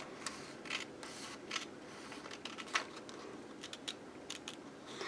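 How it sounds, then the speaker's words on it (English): Scissors snipping along the marked line of a paper sewing pattern for homemade bell-bottom trousers, a run of short, light, irregular cuts at close range over a soft background hiss, with no talking. "you're going to take your scissors"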